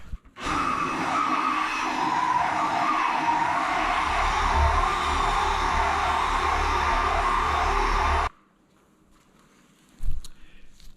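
A car polishing machine runs at low speed on a 1993 Cobra, a steady droning whir with a low rumble that holds evenly for about eight seconds before cutting off abruptly, followed by near silence and a brief thump.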